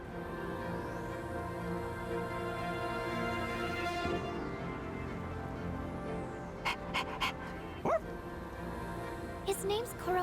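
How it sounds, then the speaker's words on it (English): Koromaru, a dog in the video game Persona 3 Reload, pants and gives a few short yips and barks late on, set against a steady background music bed with a voice speaking. "What a smart dog!"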